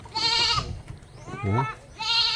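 Goats bleat in close, loud, wavering cries, three separate calls in quick succession in a rural farm setting, with no talk over them.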